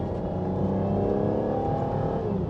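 An Aston Martin DB9 Volante V12 braking down from third gear into a second-gear corner: a steady, loud engine drone with layered harmonics and a gently falling pitch as it slows, no voices.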